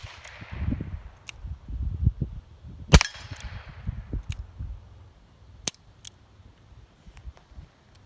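Several sharp, dry revolver shots from a Diamondback Sidekick crack out one at a time at irregular intervals outdoors, over heavy, buffeting wind rumble that fills the gaps between shots.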